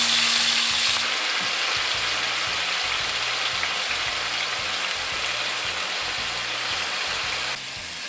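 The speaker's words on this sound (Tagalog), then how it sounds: "Isa-isa nating isalang sa mainit na mantika ang mga binabad na tapa." Marinated beef tapa frying in hot oil, a steady loud sizzle that carries through the whole stretch, with a faint low thumping hum running under it and a slight drop near the end.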